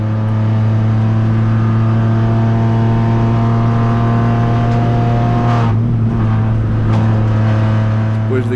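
A Kia Picanto GT Cup race car engine drones steadily at high speed on a hillclimb, heard loud and close from onboard, with a slight pitch change partway through and no voices.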